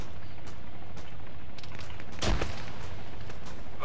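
A grenade blast in the video game Arma 3 during a night mission, a single sharp broadband explosion near the middle, with scattered faint gunfire cracks and low rumble around it.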